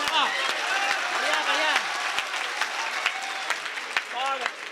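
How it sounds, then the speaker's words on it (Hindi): An audience claps in a steady, continuous round of applause while a voice carries on speaking over it. "जोरदार तालियां बजा दीजिए।"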